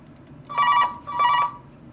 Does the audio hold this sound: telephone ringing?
yes